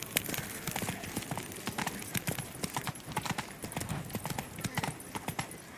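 Roach, a horse in The Witcher 3: Blood and Wine, gallops with rapid, rhythmic clip-clop hoofbeats, steady and close, over faint ambient game sound.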